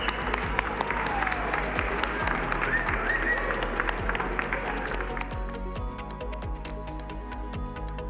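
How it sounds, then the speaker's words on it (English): An audience claps for the artist at a Ferrari SF90 reveal event, dense, steady applause filling the room before thinning toward the end, with scattered individual claps standing out. "So let's give a round of applause to the artist,"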